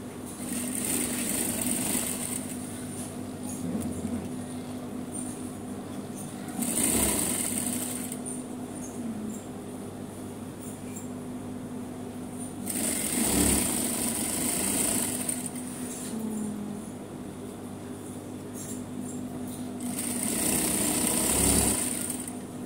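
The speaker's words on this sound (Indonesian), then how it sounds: "lepas tu kita jahit biasa" A sewing machine stitching the zip of a modern kebaya skirt runs in three bursts of steady, buzzing whir, separated by quieter pauses with a low background hum; no one talks.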